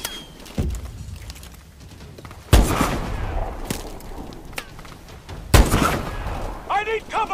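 Gunfire in a video game: a few loud, sharp bursts of shots stand out at intervals against a busy background of battle noise.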